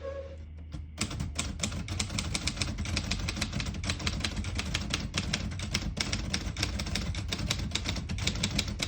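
Typing on a 1947 Royal Quiet Deluxe portable typewriter: after a brief pause, a steady run of crisp, close key strikes clacks along in a quick, even rhythm with no talk.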